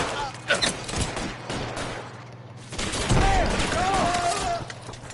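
Thompson submachine gun fire in the video game L.A. Noire: rapid bursts of shots crackle under a busy game soundscape, with voices rising over the gunfire in the second half.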